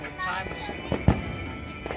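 A few distant Fourth of July fireworks pop and crackle, with two sharper bangs close together in the middle.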